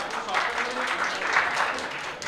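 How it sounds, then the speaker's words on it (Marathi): Steady, dense applause from a wedding sangeet audience for a couple's song-and-dance performance, sustained throughout with no clear pauses. "एकदा जोरदार टाळ्या होऊन जातात त्यांच्यासाठी."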